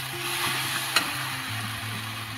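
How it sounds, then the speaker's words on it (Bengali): Taro leaf curry with whole green chillies is stirred in a pan, giving a steady, close sizzle with soft scraping and one brief clink of the utensil, no talk. "এবার আমি নাড়াচাড়া করে দেবো, ভালো করে মিশিয়ে দেবো"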